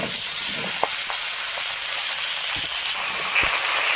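Chopped onion, garlic, green chili and pumpkin fry in a pan over panch phoron and bay leaf, a steady close sizzle with a few sharp clicks of stirring scattered through it and no talk.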